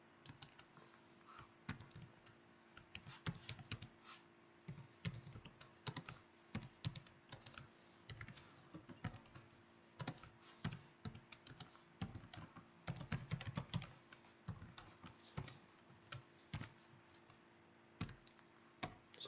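Computer keyboard typing as a command is entered, a steady stream of quiet close key clicks in irregular quick runs with short pauses, alone over faint background hum.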